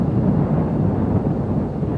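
Strong wind buffets the microphone on a hilltop overlooking a city, a steady loud low roar that continues without a break.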